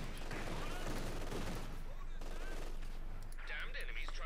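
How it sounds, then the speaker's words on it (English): Vickers machine gun fire in the World War II strategy game Company of Heroes 2, rapid bursts and battle gunfire mixed with other game effects under a commentator's voice. "We got the Vickers opening up"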